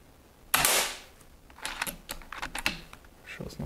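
Single sharp shot from an FX Impact M3 air rifle during precision target shooting, a close, loud crack with a quick decay, followed by faint clicks and handling noises of the rifle.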